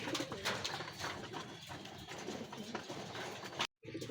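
Racing pigeons coo softly and repeatedly at a derby loft in San Narciso, Quezon, over steady ambient background noise. The sound cuts out briefly near the end.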